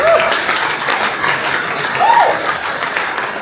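Audience applause at a talk celebrating RUN-DMC's DMC and hip hop culture, a steady, dense wash of clapping with cheering voices rising over it throughout.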